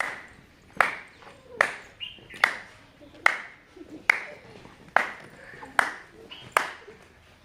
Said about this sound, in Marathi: टाळी वाजवणार आहे